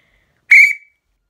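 A single sharp, shrill Fox 40 Force hockey referee whistle blast, loud and close, lasting about a third of a second before cutting off.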